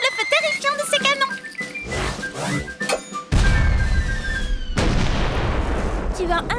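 Booming artillery cannon fire from a siege battle, loud and dense, a dramatic scene of blasts and crashes first mixed with music and voices, then giving way to a sustained roaring barrage.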